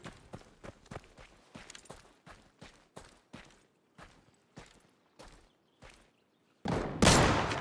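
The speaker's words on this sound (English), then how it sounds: "Not appreciating getting shot at by a fucking shotgun mid-fight." Shotgun blasts in a video game, a long run of about fifteen evenly spaced, punchy shots with short decays, close and moderately loud, then a sudden burst of louder noise at the end.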